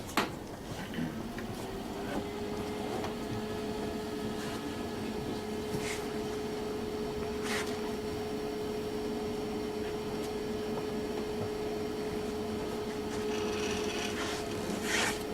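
A Kongsberg cutting table runs a job with its oscillating knife tool, giving a steady buzzing hum with a sustained tone and faint scraping, rubbing texture, punctuated by occasional light clicks and taps.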